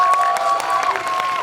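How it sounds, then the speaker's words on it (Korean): An audience in a Megabox Coex cinema hall claps during a post-screening film talk event, a dense, even patter of hands, close and sustained throughout with no pauses. "박수 부탁드립니다"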